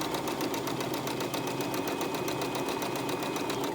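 A sewing machine stitches fabric at a steady pace, its fast, even mechanical chatter running continuously and close up with no talk.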